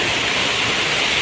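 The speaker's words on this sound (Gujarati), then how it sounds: "અને ટાવરની અંદર પાણી આવે છે." Water rushes steadily inside an old stone water tower at Uparkot Fort in Junagadh, a dense, continuous hiss and roar of flow that stays even and close throughout, with no voices.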